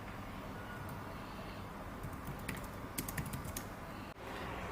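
Quick, fairly soft tapping on the keyboard of an i7 Book tablet, light clicks coming in short bursts over a steady background hiss.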